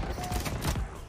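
Rapid bursts of anti-air gunfire in the Halo Infinite video game, a dense, continuous fusillade of booming shots over about a second, loud and close, with faint voice chatter underneath.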